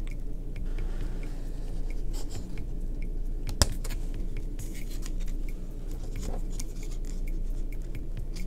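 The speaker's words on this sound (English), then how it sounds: "Just gonna cut these edges in a little bit." Scissors snipping the edges of craft material for a Dollar Tree farmhouse bicycle wall decor project, small soft cuts scattered over several seconds with one sharper click, close and fairly quiet against a steady low hum.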